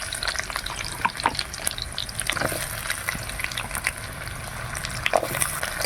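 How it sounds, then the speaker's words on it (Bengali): Potatoes with chopped onion and a bay leaf frying in oil in a wok, with a steady close sizzle and occasional stirring scrapes throughout, no talking. "আলুগুলো ভালো করে ভেজে নেব"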